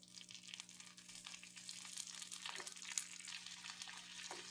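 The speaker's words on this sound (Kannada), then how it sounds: "ಇದಕ್ಕೆ ಜಜ್ಜಿದಂಥ ಬೆಳ್ಳುಳ್ಳಿ ಹಾಗೂ ಕರಿಬೇವಿನ ಸೊಪ್ಪು ಇದನ್ನು ಹಾಕಿಕೊಳ್ತಾ ಇದ್ದೇನೆ" Crushed garlic and curry leaves frying in hot oil make a soft, continuous crackling sizzle with faint stirring and a few sharper pops, close and steady, with no one talking.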